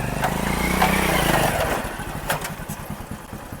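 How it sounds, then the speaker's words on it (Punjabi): A motorcycle engine rumbles loudly, then fades and shifts as the bike rolls in and slows, with no talking over it. "ਹਰਪ੍ਰੀਤ ਅਗਲਾ ਮੋਟਰਸਾਈਕਲ ਦੇਖ ਲਾ ਆ ਤੇਰਾ ਬਾਈ ਆਉਂਦਾ ਵੀ ਬੁੜਕਦਾ ਤੁਰਿਆ ਆਉਂਦਾ ਇਹਦਾ ਮੋਟਰਸਾਈਕਲ"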